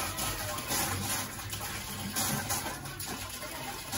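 Water pouring into a pot to make kolak with pumpkin and bananas, a continuous splashing gush with slight surges, close by and fairly quiet.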